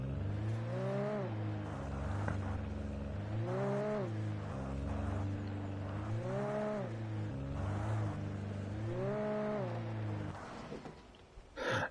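Car engine in Alan Wake Remastered, droning steadily with repeated rising revs as it accelerates and shifts over and over, close and continuous, then cut off near the end.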